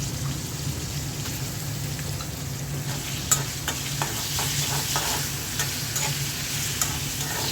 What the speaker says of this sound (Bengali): পেঁয়াজের সাথে চিংড়ি মাছটাও ভেজে নেব।